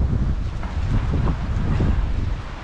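Strong wind buffeting a microphone out at sea, a steady broadband roar with gusty swells and rustling, continuous and close throughout, no voices.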